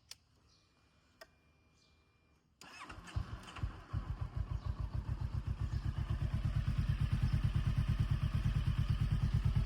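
A 2016 Honda CB 500X ABS motorcycle engine cranks and catches after a quiet moment, then settles into a steady, close, pulsing idle that grows slightly louder, with faint ticking before the start.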